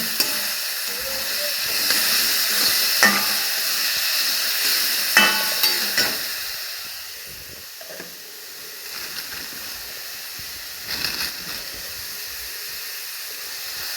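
Eggs poured into softened fried onion and tomato for egg bhurji, a steady close sizzle and hiss in the pan with occasional stirring scrapes and clinks, no talking.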